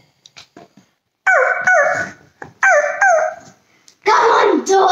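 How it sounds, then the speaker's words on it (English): Several loud, harmonic barks from a dog at a family slumber party, arriving in two paired bursts and a final longer cry, with children's voices talking in between. "Come on, dog. Let me touch you. Where is the dog?"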